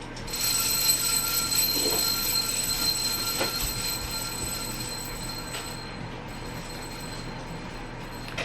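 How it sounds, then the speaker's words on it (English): A child's loud toy plays steady high electronic tones and a ringing, alarm-like buzz indoors, continuous for several seconds and fading slightly toward the end, with no talking over it. "You bring your loudest toy in here?"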